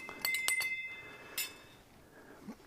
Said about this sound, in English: I give that a little stir.